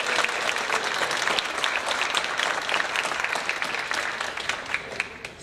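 Sustained applause from a seated crowd at a university senior brunch, dense overlapping claps held steady for several seconds before easing slightly at the end.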